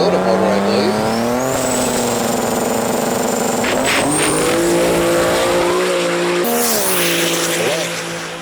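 A 1979 Datsun 280ZX with a Toyota engine makes a drag-racing pass, its loud, close engine roaring continuously and climbing in pitch through several gear changes, then fading slightly at the end.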